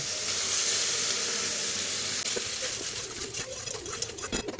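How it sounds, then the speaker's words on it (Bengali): Hot water poured into a frying pan of spices, lentil bori and bitter gourd: a dense, loud hiss rushes at first, then fades into uneven bubbling and spitting pops near the end. "আমি দিয়ে দিলাম একটু গরম জল"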